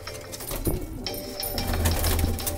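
Pigeons at a loft of Hyderabadi fancy pigeons, kept by a family of pigeon breeders in India, give soft steady cooing under a constant low hum of surrounding noise, with no talk.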